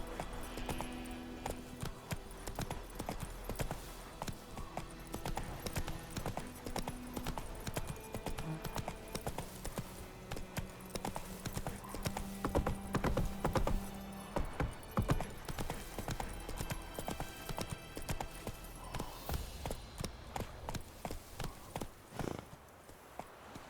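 Hooves of the horse Roach clip-clop steadily at a gallop in The Witcher 3 video game, a continuous rhythmic beat under dense game sound, with a brief snort or whinny.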